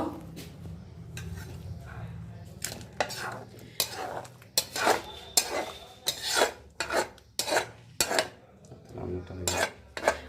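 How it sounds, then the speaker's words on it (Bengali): Cooked bottle gourd curry with lentils, egg and chopped coriander gets stirred and then scraped and poured into a bowl, giving a series of close, irregular metal-on-pan scrapes and clinks over a faint background sizzle. "নেড়ে নেব। এবার একটা পাত্রে ঢেলে নেব।"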